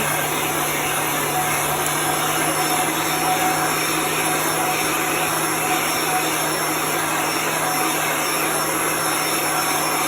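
A heat tool blows over a layer of chalk paste so it dries before the next layer goes on, giving a loud, steady electric whir with a constant hum that runs unbroken throughout, with no voices.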